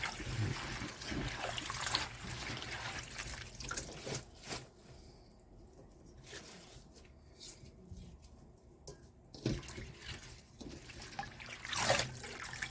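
Tap water runs and trickles into a sink while collard greens are washed by hand, a steady splashing flow that thins out and turns quieter in the middle before swelling again.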